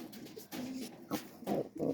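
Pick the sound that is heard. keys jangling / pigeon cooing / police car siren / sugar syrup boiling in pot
pigeon cooing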